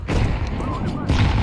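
A grenade blast in a tactical shooter video game, one heavy low rumbling boom that fills the short clip and decays with a second swell near the end, loud and close with no talk over it.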